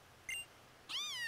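A cat meowing in the Pokémon Ultra Moon video game, two short synthesized meows, a brief chirp and then a longer rising-falling cry, clear and alone.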